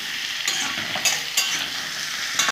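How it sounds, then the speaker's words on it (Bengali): Loud, steady sizzling of chicken frying in hot oil, broken by a few sharp scrapes of stirring. "আমি সুন্দর করে একটু লাল লাল করে ভেজে নেবো"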